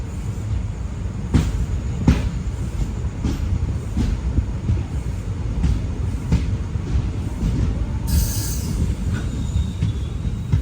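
The Executive Express pulls out of Kannur railway station behind a WP4 locomotive, with steady loud rolling rumble, periodic rail clicks and a brief high wheel squeal near the end.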